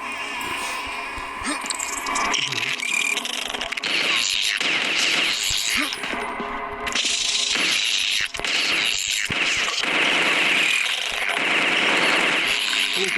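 Rapid video game gunfire in a zombie shooter set in a haunted hospital full of monsters, with repeated bursts of crackling shots and mechanical clatter over dense game sound, with no talk.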